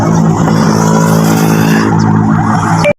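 A Ford Ranger engine being cranked after a fuel filter change, hard to start: a loud, steady, harmonic churning drone held close for about three seconds, then cut off abruptly.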